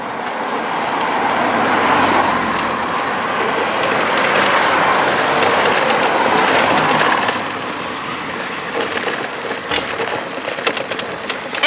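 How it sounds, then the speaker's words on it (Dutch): A car approaches along a town street, its engine and tyre noise swelling to a loud, close roar over several seconds before fading away, leaving quieter traffic and street ambience with scattered clicks. "er komt een mooie auto aan"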